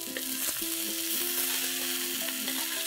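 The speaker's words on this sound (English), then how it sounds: "Toss this gently" Chilli idli with spring onion greens tossed gently in a pan off the flame, a soft continuous sizzle and scrape under faint steady tonal hum, with a few light knocks of the spoon.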